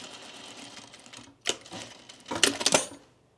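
A sewing machine stitching the layers of a men's tropical shirt collar, with a faint hum, a sharp click, then a close burst of fast stitching clatter before it stops.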